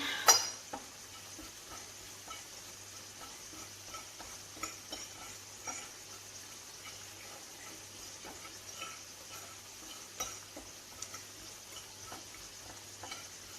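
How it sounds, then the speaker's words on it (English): Potato wedges are stirred as they fry in a pan, giving a faint, steady sizzle with soft scattered scrapes and taps of the utensil, and a louder clatter at the very start. "Just give it a good stir."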